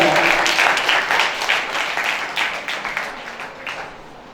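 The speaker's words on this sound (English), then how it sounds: "Please clap." Audience clapping at a quiz competition, a dense, steady wash of many hands that begins loud and gradually thins and fades toward the end, with no talk over it.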